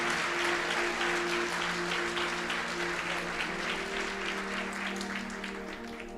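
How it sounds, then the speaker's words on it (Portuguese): A church congregation at a Sunday family worship service claps in dense, sustained applause that fills the space, with a steady low tonal hum running beneath it and the clapping easing slightly toward the end. "Aplauda e glorifique o nome do Senhor."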